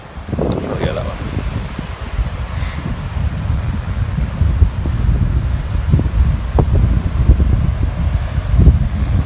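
Outdoor wind gusting steadily and loudly across an open, weedy area near a bench, with a broad rumbling roar and buffeting against the microphone throughout, with rustling underneath.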